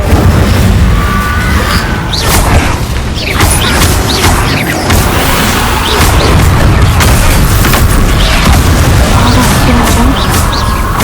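An Incendio fire spell is cast during Hogwarts Legacy combat, with loud bursts and crackling blasts over a constant, dense wash of battle noise and a voice heard occasionally.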